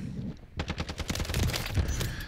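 Hemlock OG rifle gunfire in a video game: after a brief quiet moment, a fast, loud, steady burst of roughly fifteen close shots runs to the end.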